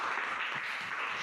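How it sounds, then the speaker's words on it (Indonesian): Applause from a classroom group, a short steady wash of many hands clapping together, with no one talking over it. "Oke, tepuk tangan."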